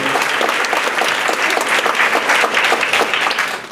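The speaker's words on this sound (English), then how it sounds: "can we have a quick round of applause for the curator of this?" A loud, dense round of applause from an audience at a Q&A honoring the curator, continuous and close throughout.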